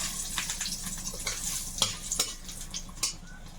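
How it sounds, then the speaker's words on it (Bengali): Dried red chillies fry in hot oil with a close, steady sizzle broken by quick scraping stirs and light clinks of a utensil against the pan. "তেলের মধ্যে একটু শুকনো লঙ্কা"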